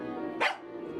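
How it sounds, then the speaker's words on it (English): A single short dog bark from the Tiny Bunny video game rings out once over a steady low background hum, then fades back to the quiet ambience. "dog barked in agreement and stopped messing with the mitten"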